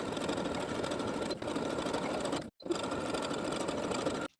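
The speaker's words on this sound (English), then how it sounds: "sew those armhole bindings in place with a 5/8 inch seam allowance" A sewing machine stitches armhole bindings onto a sleeveless dress with a steady, close mechanical whir. It runs in two stretches separated by a very brief stop and halts at the end. Nobody speaks.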